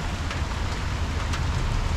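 Steady rain hissing down, a dense wash of patter with a low rumbling undertone, constant throughout with no voices.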